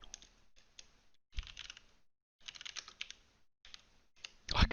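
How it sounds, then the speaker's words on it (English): Rapid clicking of a computer keyboard as someone types a search, in bursts separated by short pauses, close and fairly loud, with no speech. "I'm just typing in superhero fighting game."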